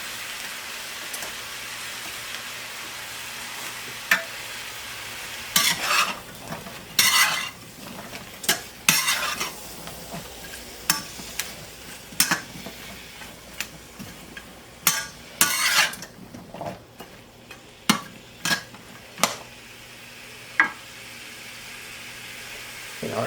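A pot of opo squash soup with bok choy is cooked and stirred, giving intermittent scraping and clinking bursts of the spoon over a low, steady bubbling background, close and fairly quiet.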